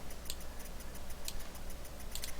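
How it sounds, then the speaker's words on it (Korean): Soft, irregular clicks in small clusters over a steady background hum, like a computer mouse being clicked nearby. "마우스가 너무 시끄러워,"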